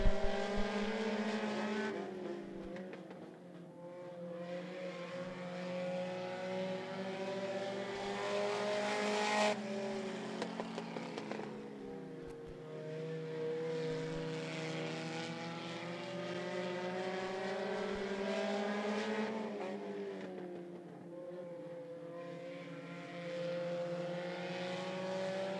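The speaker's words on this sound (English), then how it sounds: "Sharp down the back straightaway" Front-wheel-drive race cars roar around a raceway oval in a sustained, fairly distant engine drone with rising and falling pitch as they pass down the straightaway, with no talk heard.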